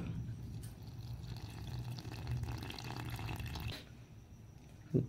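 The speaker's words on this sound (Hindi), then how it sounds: "then add some water" Water trickles and pours steadily into a bowl of turmeric and chili powder spice mix for a few seconds, close and fairly quiet, then stops, and a brief clink follows at the end.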